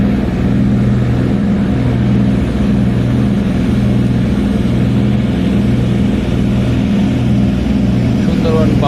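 A passenger launch ferry's engine drones steadily at night on the Ilisha–Dhaka river route, a loud, continuous low rumble with a faint throb that holds even throughout.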